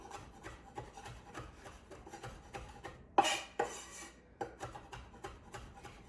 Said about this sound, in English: So I try to chop mine up pretty fine.